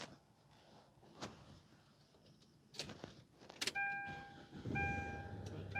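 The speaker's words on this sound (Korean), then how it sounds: "그러면 시동 한번 켜볼게요." 2016 Hyundai Grand Starex van being started: faint cabin clicks and knocks, short electronic chimes, then the engine fires and settles into a low idle near the end.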